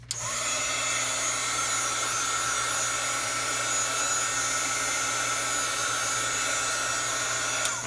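A hair dryer blows steadily on a saturated paper flower, a loud continuous whirring drone with a high whine that runs unbroken from start to finish, no voices.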